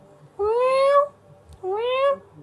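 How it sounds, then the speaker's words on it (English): A hungry cat on a film set meows twice, close and clear, each call a drawn-out rising wail with a short gap between them. "Hungry cat on the set!"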